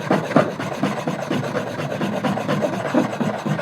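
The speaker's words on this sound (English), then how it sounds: "this is the 4-in-hand rasp and file from our kit, or any other round-faced file will do fine" A round-faced four-in-hand rasp and file works back and forth across the underside of a wooden toy crossbow. The result is a close, rhythmic, gritty scraping with steady repeated strokes.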